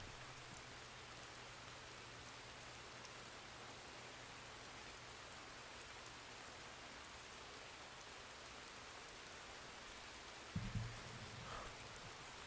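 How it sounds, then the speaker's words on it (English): Steady rain falling in the Red Dead Redemption 2 game world, a faint, even hiss that holds for the whole stretch, with a brief low thump near the end. "pissing rain, Jesus"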